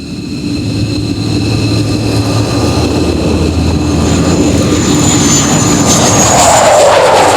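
USAF F-15 fighter jets of the Alaskan Air Command, their engines a loud, steady roar with a whining tone that builds and sweeps higher toward the end, heard alone without speech.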